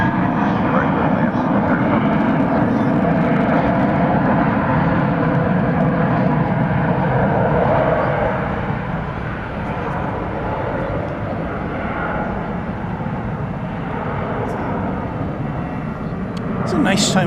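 An airliner on approach to runway 18 right at DFW Airport at night, a loud steady engine roar that dips slightly midway and swells again, with radio talk from the tower over it.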